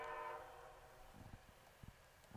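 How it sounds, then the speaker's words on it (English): A train pulls away near a sports field during a baseball game, its horn sounding briefly and fading, followed by faint low rumbling and a few soft thuds in the distance. "Seems that the train has left quite early"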